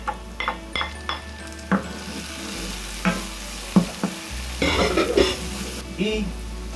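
Grated tomato goes into a sizzling Venezuelan sofrito for carne mechada, bringing soft frying hiss with spoon scrapes and clinks against the pan in brief bursts.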